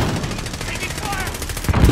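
Rapid automatic gunfire from a Call of Duty Modern Warfare team deathmatch rattles in quick bursts, with louder shots near the end and a game voice mixed in.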